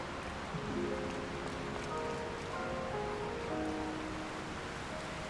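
A waterfall in the video game Zelda: Tears of the Kingdom gives a dense, steady rushing roar throughout, with soft melodic game music tones faintly underneath.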